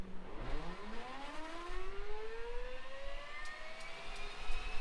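An OV-10 Bronco turboprop engine spools up during startup in Microsoft Flight Simulator, a rising whine climbing steadily in pitch over several seconds, faint and alone with a low rumble beneath.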